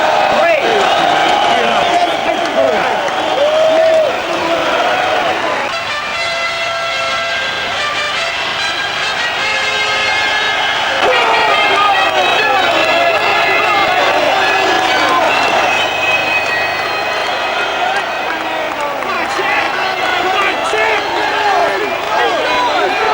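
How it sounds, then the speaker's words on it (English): Raucous crowd of about 8,000 at Wembley Arena cheering the boxing challenger Lloyd Honeyghan, a sustained roar with whistles and shouts under continuous commentary. "Tremendous reception for Honeyghan, the challenger"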